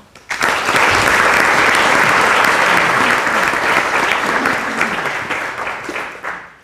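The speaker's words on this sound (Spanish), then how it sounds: "Recibámoslos también con un aplauso." Audience at an academic computing round-table breaks into strong, sustained applause to welcome a panelist, a dense wash of many hands clapping that holds steady for several seconds before easing slightly at the end.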